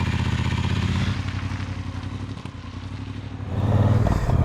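Triumph Speedmaster 1200cc motorcycle engine pulling away, a loud steady low rumble with a throaty exhaust note that dips briefly, then swells louder as the bike accelerates off.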